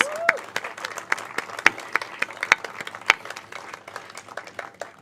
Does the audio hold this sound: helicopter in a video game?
no